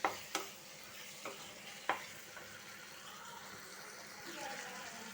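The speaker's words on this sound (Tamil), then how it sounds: "கொஞ்ச நேரம் அப்படியே வதக்க வேண்டியதுதான்." Food sautés quietly in a home kitchen pan with a faint low sizzle, punctuated by a few sharp spatula taps and scrapes early on, and some low voices in the background.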